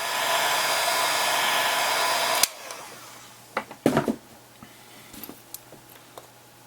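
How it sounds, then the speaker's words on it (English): A heat gun or blow dryer blasts with a loud, steady whoosh while heating a Samsung Galaxy Player 5.0 for disassembly, then cuts off abruptly, followed by scattered soft clicks and taps of handling. "Heat it up a little bit with either your heat gun or blow dryer."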